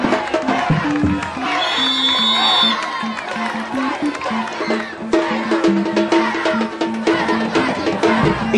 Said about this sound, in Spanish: Fuerte el aplauso también,